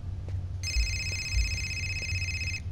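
A phone in the PS4 game Fahrenheit rings with a steady electronic trill for about two seconds, then cuts off, heard over a low rumbling game ambience.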